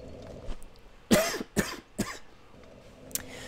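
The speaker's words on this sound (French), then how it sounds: "Excusez-moi, j'ai un peu toussé." Someone gives a cluster of three close coughs, the first loudest and the next two quicker and lighter, with a brief throat clearing afterward over a quiet background.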